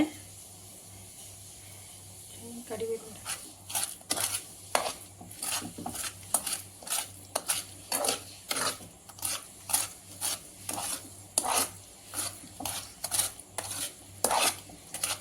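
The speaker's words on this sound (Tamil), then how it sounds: "நல்லா கலந்து விட்டுக்கிடணும் கரண்டியில் தேய்ச்சி விட்றப்ப கலந்துக்கிறோம்" A ladle scraping and stirring a thick paneer palkova milk mixture in a pan, a series of repeated gritty metal scrapes in an uneven rhythm over a faint steady hum.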